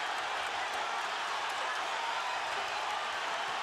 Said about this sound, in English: Listen to the crowd, folks.